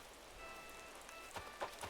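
Rain falling in the Animal Crossing New Horizons video game, a soft steady patter with a few brighter drop splashes near the end, quiet and continuous with no voices.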